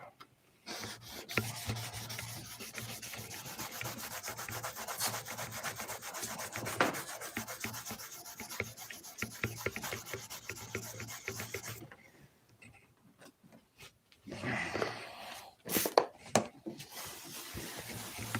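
Paint being ground off a surface by hand, heard as a steady, close rasping and rubbing scrape that runs continuously, breaks off briefly, then returns in short bursts.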